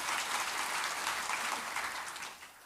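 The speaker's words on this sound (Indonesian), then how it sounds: "Yang percaya tolong beri tepuk tangan yang paling meriah dulu buat Tuhan kita" A church congregation applauds during a Good Friday service, dense steady clapping from many hands that fades slightly toward the end.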